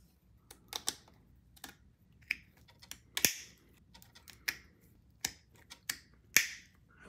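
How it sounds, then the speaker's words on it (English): A concave branch cutter snips through small Japanese maple bonsai branches, making a series of crisp, close clicks and snaps at an uneven pace against a quiet background. "So if the branch that I'm cutting is here, using that concave end, it really helps get into that little area and cut."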